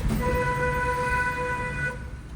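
A steady car horn blares for about two seconds over rumbling engine noise during a driving lesson, then cuts off.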